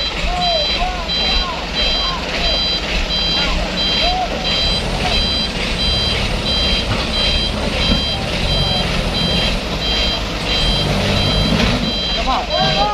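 Fuso Canter truck being pulled backwards by two vehicles on a steep hill, its reversing alarm beeping in a steady, evenly spaced pattern over engine rumble while people talk.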